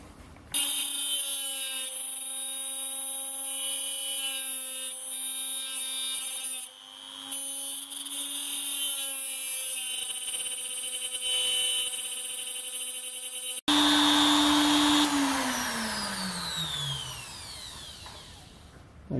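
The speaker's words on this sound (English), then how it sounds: "So now we basically line this up at 90 degrees and we grind that one." A HILDA tool post grinder on a lathe sharpening a drill bit: a steady high whine with a strong ringing tone and a grinding edge throughout, then the pitch drops sharply as the wheel spins down.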